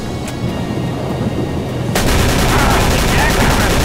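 Heavy gunfire in the Call of Cthulhu video game swells into a loud, continuous barrage of rapid shots, with nobody speaking over it.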